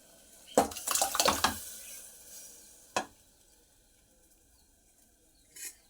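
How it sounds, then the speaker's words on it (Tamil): Cooked moong dal is poured into a pot for Tirunelveli sodhi kuzhambu. There is a short, close splashing pour, followed by a single clunk and faint pan sounds in a quiet kitchen. "இந்த பருப்பை இதில் ஊற்றிடுவோம்."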